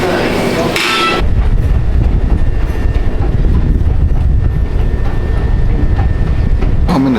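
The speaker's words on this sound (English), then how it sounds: "I'm in the train now." A brief muffled moment gives way to the loud, steady rumble and clatter of a Chicago train rolling along the tracks, heard from inside.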